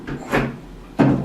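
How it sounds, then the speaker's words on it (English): A household door being taken down after its hinge pins are removed gives two dull knocking thumps, close and loud, with a short gap between them. "The door should fall right off its hinges."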